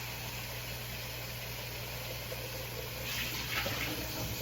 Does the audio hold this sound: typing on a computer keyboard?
no